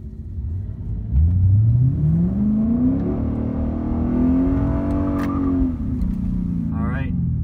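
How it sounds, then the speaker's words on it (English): A Mercedes C63S AMG launches hard with launch control, its engine roaring loudly as it revs and climbs steadily through the gear, a strong nearby rumble that holds through most of the stretch. "Alright, so we got here a C63S AMG. He's using his launch control."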